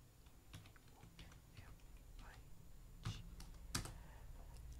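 Keys clatter on a computer keyboard as a short command is typed into a Windows prompt, a quick, uneven run of close, crisp taps with a few louder strokes near the end.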